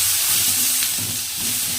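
Small pieces of chopped tomato sauté with onions in a hot pan, giving a steady, close sizzle with soft hissing and no talk.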